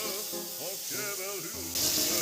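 Pieces of a large chopped tomato hit hot oil for a Bengali coconut chickpea dal, and a bright hissing sizzle bursts up near the end, loud and close, over a speaking voice that carries through most of the moment.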